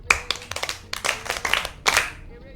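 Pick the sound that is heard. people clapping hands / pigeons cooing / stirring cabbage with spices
people clapping hands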